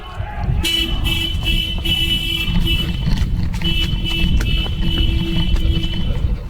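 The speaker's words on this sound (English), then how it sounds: "That is the sound. That is the siren." A car alarm siren blaring in a steady pulsing electronic tone, loud and near, pausing briefly midway before resuming, with background noise and some voices.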